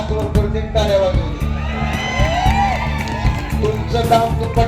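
A rally crowd in Deoni, Nilanga constituency, cheers and shouts loudly throughout, with whoops and raised voices layered over a dense, continuous roar.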